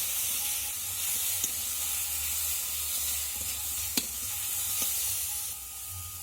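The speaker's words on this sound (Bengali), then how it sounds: "আমগুলো দেওয়ার পর অল্প একটু নাড়াচাড়া করে নিতে হবে।" Boiled raw mango pieces stirred into fried spices in a pan: a steady, close hissing sizzle fills the whole stretch, with a few sharp clicks of the spoon against the pan; no talking.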